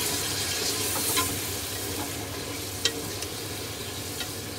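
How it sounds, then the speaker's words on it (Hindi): Yogurt fried with chicken in a pan for chicken tahari hisses with a dense, even sizzle, broken by a few sharp spoon clinks and scrapes against the pan; no talking. "ये 3 से 4 टेबल स्पून दही है, इसको भी डालकर हम अच्छे से भून लेंगे।"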